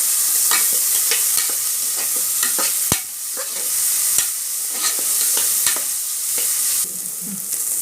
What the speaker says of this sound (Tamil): வெங்காயம் பூண்டு பச்சை மிளகாலாம் நல்லா வதங்கிடுச்சு